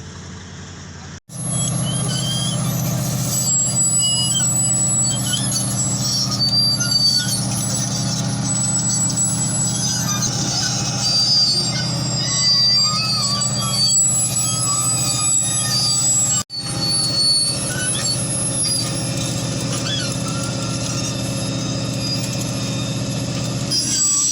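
A heavy machine is loaded onto a trailer at the Rathoa Haryam bridge construction site in Mirpur, Kashmir, with a continuous loud engine rumble and metallic grinding that drops out briefly once.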